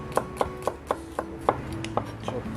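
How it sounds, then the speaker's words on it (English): Garlic chopped with a knife on a board: about nine crisp, evenly spaced chops in a steady rhythm, close and distinct, with no voices. "Chop garlic."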